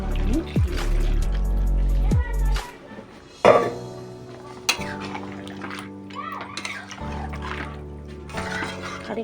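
Water is poured into a pot of chicken curry, bursts of splashing and trickling coming in short separate pours with quiet gaps between them.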